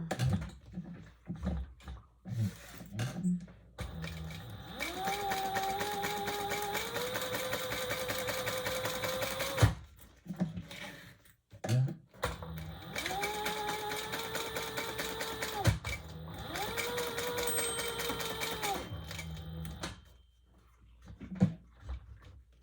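A sewing machine stitches a fabric bag in bursts of steady whirring that start and stop, with quiet pauses between runs and a few soft handling clicks.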